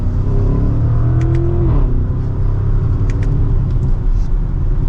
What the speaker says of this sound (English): you have that healthy V8 noise that doesn't get old